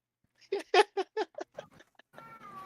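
A house cat meows in a quick series of short, close cries, followed by a brief faint voice.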